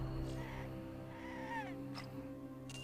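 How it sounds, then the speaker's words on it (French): Bird calls from the Jurassic World video game: a couple of short chirps and a falling whistled call over a steady, droning game music bed, fairly faint and without speech. "Un autre oiseau."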